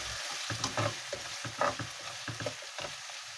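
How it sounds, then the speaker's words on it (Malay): Sambal with dried chillies sizzling as it fries in oil in a pan, with bursts of crackle and occasional stirring scrapes, close and steady. "Biarkan mendidih dan pecah minyak ya."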